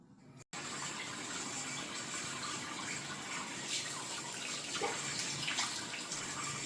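Tap water running steadily into a sink while a face is washed, a continuous close gushing hiss after a brief gap, with faint splashes.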